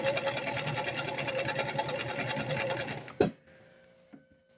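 A vintage sewing machine stitches steadily at a fast, even rhythmic whir for about three seconds, loud and close, then stops abruptly with a clunk, leaving faint mechanical clicks and a quiet hum.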